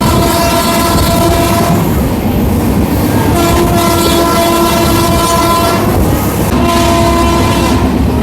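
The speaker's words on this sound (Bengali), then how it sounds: "এখন আমাদের ট্রেন এসে পৌঁছালো হ্যামিল্টনগঞ্জ" The 13149 Kanchankanya Express rolls loudly into Hamiltonganj station, its wheels rumbling and clattering on the rails while the horn blasts in long sustained tones several times.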